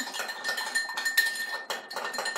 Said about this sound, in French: On mélange. Et voilà, on mélange le tout.